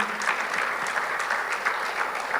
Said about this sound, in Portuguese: Você pode dar um aplauso bem forte ao Senhor?